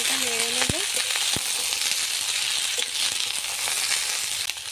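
Vegetables and leafy greens fry in mustard oil with dried chilli, a steady loud sizzle with a few soft scrapes of stirring near the start.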